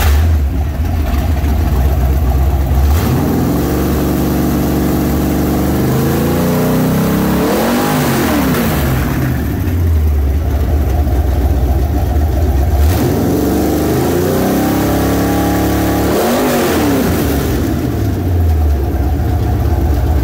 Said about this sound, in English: We built you a beautiful 427 Ford engine.